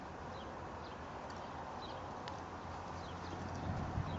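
A horse steps across uneven ground outdoors, its hooves making faint, irregular clip-clop thuds under a soft background hiss with distant insect or bird sounds.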